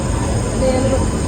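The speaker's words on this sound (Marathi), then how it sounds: "तुझं ट्रेन आली." A dense, continuous rumble of a train arriving at a station, with a faint high squeal on top, heard close up and loud for a brief moment.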